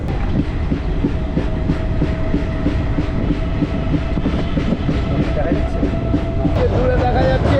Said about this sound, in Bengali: দক্ষিণেশ্বর থেকে আমাদের ট্রেন ছেড়ে দিল